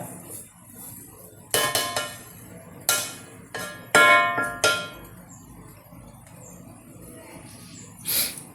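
A metal lid clangs onto a cooking pot of Karkidaka Njavara upma, giving several sharp, close knocks and rattles spaced a second or so apart, then a final clink after a quiet pause.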